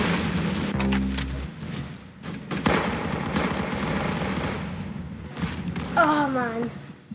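Shooter video game gunfire crackles in rapid automatic bursts and heavy booms, loud and dense throughout, ending with a rising electronic game tone.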